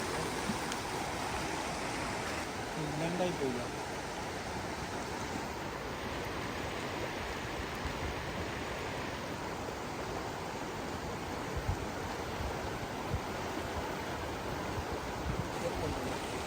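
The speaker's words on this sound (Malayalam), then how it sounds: "ഒഴുക്കുണ്ട് വെള്ളത്തിന്" Steady, broad rushing of a flowing river fills the whole stretch, constant and fairly loud with no pauses, at Chooralmala.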